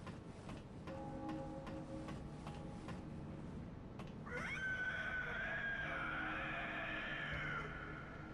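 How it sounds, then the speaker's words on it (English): A blood-curdling scream rings out in the dark gothic town of Bloodborne, rising into a long, wavering shriek after some sparse clicks and tones, lasting several seconds. "that's a pretty blood-curdling scream"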